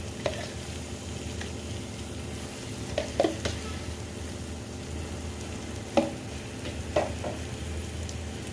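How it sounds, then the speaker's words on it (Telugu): Egg biryani masala sizzles steadily in a pan as spoonfuls of yogurt go in, with a constant frying hiss broken by a few sharp spoon taps and scrapes from stirring. "దీనిలోకి ఒక 3 స్పూన్స్ పెరుగు వేసుకుందాం."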